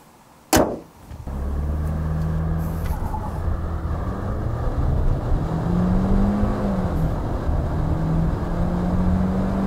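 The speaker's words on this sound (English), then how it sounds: "would you like to see how fast the Hyundai Santa Fe go?" A 2019 Hyundai Santa Fe midsize SUV with a 2-liter turbo engine and 8-speed automatic accelerates hard. A sharp thump comes first, then a loud, steady engine drone whose pitch climbs and shifts as it pulls through the gears, heard from inside the cabin.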